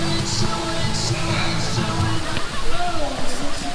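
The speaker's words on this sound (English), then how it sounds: "Oh dear, just need to dip my hat." Fountain water splashes and rushes steadily as a hat is dipped into it in a city on a hot marathon race day, with a voice talking briefly over the noise.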